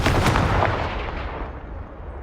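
Confringo fire spell blasting in the Hogwarts Legacy video game, a sharp booming burst with crackling impacts that rumbles and quickly fades away.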